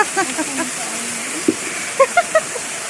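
Steady broadband rush of the waterfall at Amaya Falls, constant and close, with people talking over it throughout.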